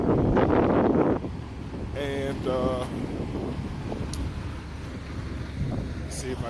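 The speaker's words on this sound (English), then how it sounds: "It is windy." Chilly early-morning wind gusts across an open mountain setting near high peaks, a steady loud rush with buffeting on the microphone, plus a brief tonal burst and some faint background activity.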